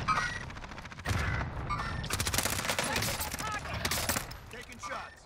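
Rapid bursts of automatic gunfire in Call of Duty Warzone, crackling shots in quick strings with brief pauses, loud and close over game background noise.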